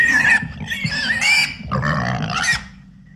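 A pig squeals and grunts loudly and close, several high, strained squealing bursts running one into another with deeper grunts beneath, alone and without any talk.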